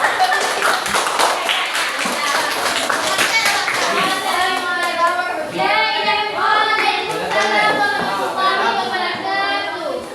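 Classroom applause for a student group, many hands clapping steadily and loudly throughout, mixed with overlapping children's voices and chatter.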